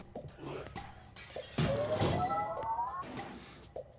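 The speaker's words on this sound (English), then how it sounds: "the safe breaks the glass" A safe smashing through glass in the puzzle game Quantum Conundrum, a sharp, fairly loud shatter midway with tinkling debris, framed by softer thumps and knocks of game sounds.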